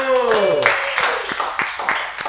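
An audience breaks into scattered clapping that builds into steady applause right after a voice speaks into a microphone.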